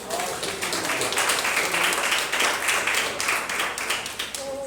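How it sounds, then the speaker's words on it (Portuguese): A church congregation claps in applause for a minister, sustained, loud and dense with many hands, lasting several seconds with a faint voice near the end. "Receba o servo de Deus com palmas em nome de Jesus."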